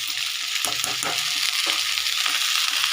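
Mustard leaves and small fish sizzle steadily while frying in a pan, with a few scraping stirs of a utensil cutting through the constant hiss.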